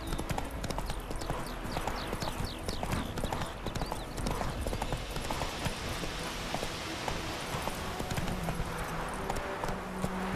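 Roach the horse gallops in The Witcher 3, her hooves pounding out a rapid, steady clip-clop that runs unbroken from start to finish, close and clear over a busy outdoor ambience.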